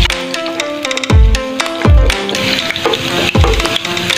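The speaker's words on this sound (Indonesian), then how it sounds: "langsung aja nih kita tumis terlebih dahulu irisan bawang merahnya ya" Sliced shallots sizzle in a pan, a soft steady frying hiss broken by a few loud knocks and clatters of a utensil against the pan.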